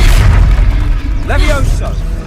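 A Confringo spell blast in the Hogwarts Legacy video game: a loud, deep booming explosion filling the clip, with a voice shouting briefly near the end.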